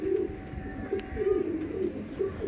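Pigeon cooing in a loft kept in Howrah, with several low, rolling coos repeating in a steady rhythm, close and clear over faint background hiss.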